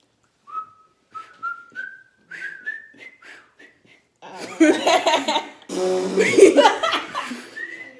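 A person whistles a series of short rising notes alone at close range, followed by laughter and breathy chuckling from nearby people.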